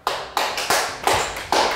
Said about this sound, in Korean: 자, 여러분 박수 치세요.